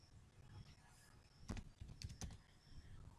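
Code is typed on a computer keyboard in a quiet room in a few sparse, soft clusters of key clicks, with small pauses between them.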